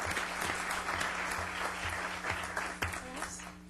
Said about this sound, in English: So one more round of applause for the City Youth Council